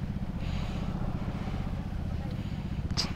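A motorcycle engine runs steadily nearby on a zigzag mountain road, a continuous low rumble with a brief higher whine near the end.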